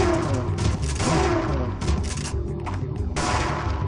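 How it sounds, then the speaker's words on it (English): Shotgun blasts fired in the video game Parasite Eve 2, a dense, loud run of booming shots with thuddy low end filling the whole few seconds, close and continuous with brief dips between reports. "Shotgun, let's try that."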